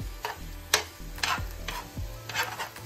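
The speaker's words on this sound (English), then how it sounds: "This is how I scramble my eggs." Eggs are stirred and scrambled in a pan, giving soft, quiet scraping strokes of a utensil at a slow, irregular rhythm, with a faint background hiss and no speech.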